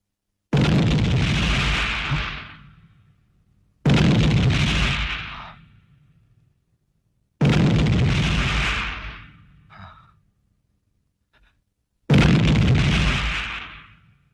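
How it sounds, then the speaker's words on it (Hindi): Four heavy explosions boom one after another as warehouses are blown up in a 1991 Hindi film, each a loud blast followed by a long rumbling decay, separated by brief silences. "ये धमाके"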